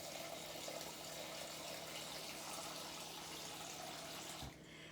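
Water is poured steadily into a bowl of rinsed walnuts to soak them, a continuous close splashing rush that runs for several seconds and then stops abruptly near the end.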